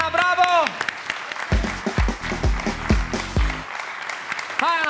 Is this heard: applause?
yes